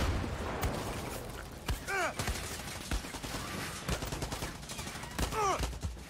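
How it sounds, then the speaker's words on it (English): Gunfire in the video game Far Cry 6 aimed at the player, with dense bursts of automatic shots and scattered single cracks over a loud continuous battle din, and some brief vocal sounds mixed in. "Who in the hell is shooting at me?"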